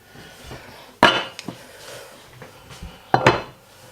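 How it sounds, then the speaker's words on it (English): A metal cooking pan picked up and set down in a home kitchen, two sharp clanking knocks about two seconds apart, close and loud, with lighter taps between. "So what we're going to need is a pan. Here's a pan."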